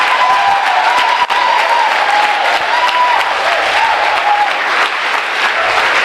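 A church congregation applauds and cheers the Lord at a New Year's Eve service, sustained loud clapping from a large crowd with a faint voice or tone running underneath, steady throughout.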